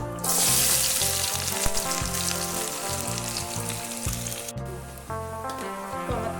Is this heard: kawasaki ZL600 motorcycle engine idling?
no